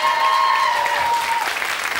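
Studio audience applauding on a 1994 television quiz show, a steady dense wash of clapping that fills the whole stretch at close range, with a faint tonal hum under it.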